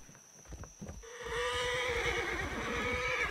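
A horse in the Roblox game neighs loudly in a long, wavering whinny that fills most of the clip, preceded by a second of low thumping steps.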